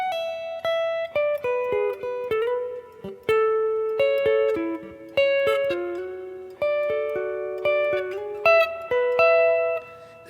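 Clean electric guitar playing the opening of a solo from 7/30/77, a slow string of single plucked notes with bends, clear and close, no talk.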